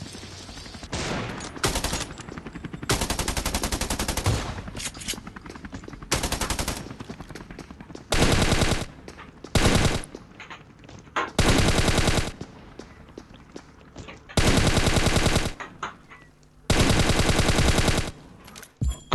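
Loud bursts of automatic weapon fire in the mobile shooter Scarfall on its Mumbai map, several sustained volleys separated by short pauses, with faint background game sounds between them.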